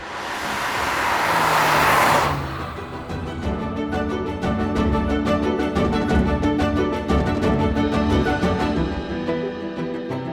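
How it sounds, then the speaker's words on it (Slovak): Heard from inside the cabin, a 1988 BMW 520i E34 engine gives a loud rushing whoosh of intake air that drops off after two seconds into a steady, rhythmic mechanical hum. "Strašne sa mi páči zvuk tohto auta znútra, pretože počuť ako motor nasáva vzduch"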